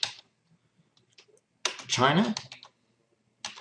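Typing on a computer keyboard while working in an Excel spreadsheet, a few scattered quiet key clicks with a short burst of spoken words in the middle.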